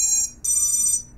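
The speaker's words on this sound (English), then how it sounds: "So I'm gonna very nervously plug this in, and hopefully we'll get some beeps and not some smoke" A newly built Armattan Marmotte FPV quadcopter gives startup beeps on power-up, two clear electronic tones, a short one then a longer sustained one, close and loud with no talk.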